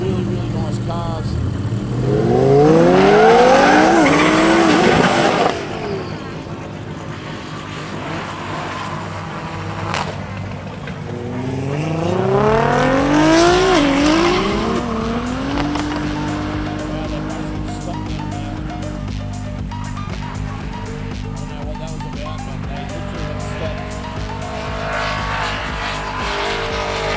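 Roll racing cars, among them Lamborghinis, Supras, rotaries and Skylines, accelerate hard at a Sydney event, with engine notes climbing through gear changes in two loud passes followed by a steadier drone, and voices faintly beneath.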